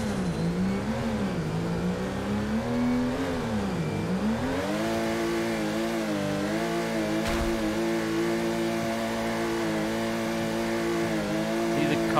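A car engine in the Torque Drift video game revs steadily under throttle, its pitch rising and dipping as it climbs and falls, then holding a sustained drone, with a brief thump partway through.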